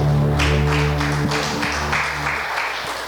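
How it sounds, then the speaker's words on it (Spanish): A congregation at a Friday night church service claps loudly over sustained organ or keyboard chords. The clapping swells in waves and then tapers off as the music fades. "Usted puede dar un fuerte aplauso al Señor en esta noche."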